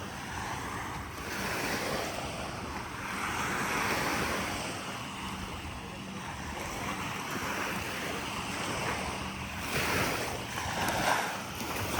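Sea waves washing in at Fahaheel beach in Kuwait, with boats moored offshore; a steady broadband wash with gusty wind noise on the microphone, rising and falling gently throughout, with no voices.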